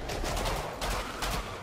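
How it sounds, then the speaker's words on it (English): Assault rifle in Killing Floor 2 firing in quick bursts of rapid shots, loud and close, with no voices. "this assault rifle is really good because of the rate of fire it has"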